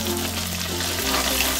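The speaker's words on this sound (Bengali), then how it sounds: "মাছগুলোকে হাই ফ্লেমে আমি কিছুক্ষণ ভেজে নিলাম" Pabda fish fry in hot oil over a high flame, a steady close sizzle and crackle filling the short stretch, no voices.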